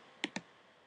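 A computer mouse clicks twice on an on-screen OK button while sending a message, two close, crisp clicks in quick succession over faint room hiss.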